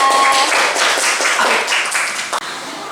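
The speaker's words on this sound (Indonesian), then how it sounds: "Tepuk tangan untuk kelompok Rusa." A class of schoolchildren claps for a group in a lesson, brief scattered hand claps with a few sharper taps, fairly close and lively, fading near the end, with a little background voice.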